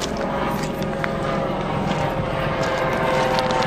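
A helicopter at the Grand Canyon gives off a steady, droning whir that holds evenly throughout at moderate distance, with no voices over it.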